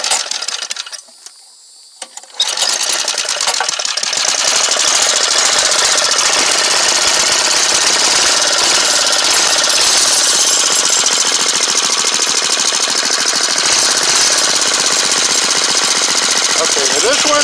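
A small engine starts after carburetor work, running on fresh fuel with the choke set. A brief sputter gives way to a loud, steady, rapid-firing run close by.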